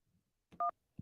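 A single telephone keypad tone for the 1 key, pressed to accept a call: one short, clean beep near the middle, with faint brief noises before and after.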